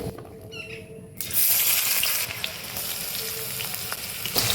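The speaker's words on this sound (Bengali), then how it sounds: "এবার আমি পেঁয়াজটা দিয়ে দেবো" Onions drop into hot oil already holding sugar, for ghugni, bursting into a loud steady sizzle after a second of quieter bubbling, close and continuous with a few small pops.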